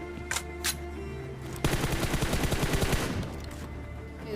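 Automatic gunfire in the PUBG Mobile game during a fight with enemy players: two single shots, then a fast, loud burst of rapid fire lasting over a second, close and unmasked.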